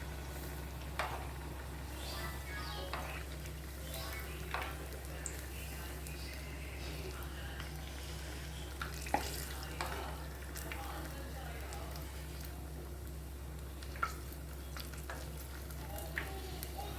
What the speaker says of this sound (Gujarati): બસ આવી રીતે આપણે ફેરવીને તળી લઈશું પ્રોપર।